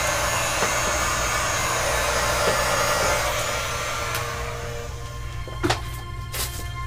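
Hair dryer blowing continuously at close range while drying alcohol on wax artwork, a loud steady whooshing roar with a few faint knocks and taps toward the end.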